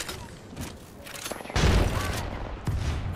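Gunfire in Apex Legends: scattered shots come first, then a heavy sustained volley of rapid fire swells midway and continues loud to the end.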